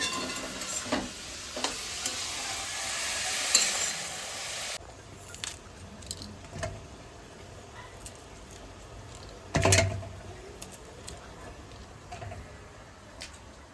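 Pumpkin greens stir-fried in a pan: a steady sizzling hiss for the first few seconds, then intermittent scrapes and clanks of stirring against the pan over a softer background sizzle.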